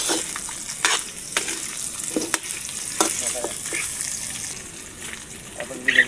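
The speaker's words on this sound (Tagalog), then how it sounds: "Haluin na natin." Sautéed onion and ginger sizzle steadily in a frying pan while being stirred, with scraping and clinking from the utensil, close and fairly loud.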